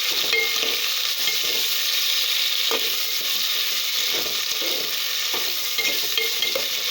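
Onion, tomato and two chilies frying in a pan, a steady close sizzle lasting throughout with occasional light scrapes of stirring, no talking.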